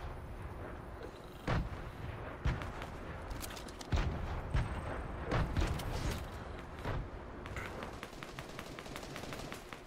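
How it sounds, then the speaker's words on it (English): Grenade explosions and gunfire in Fortnite: several heavy booms and sharp shots scattered at irregular intervals over ten seconds, moderately distant, over a constant game background. "Yeah, I'm throwing grenades at them."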